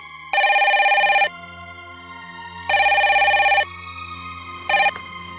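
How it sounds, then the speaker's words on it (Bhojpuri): A landline telephone rings in three loud electronic bursts, two long rings and a short one, close by with a faint background hum between them and no talk. "लैंडलाइन पर फोन लगावत बानी। हाँ, घंटी बजिल।"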